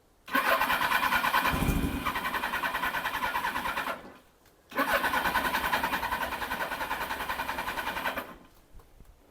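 A Suzuki GSX1100 motorcycle turns over and catches, its engine running loud and close in a rough idle, then cutting out briefly before it restarts and runs again and finally stops.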